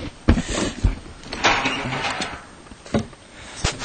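Old wood creaks and knocks in a cramped attic, with scattered thuds and a longer groaning strain, all close and irregular over a low background rumble.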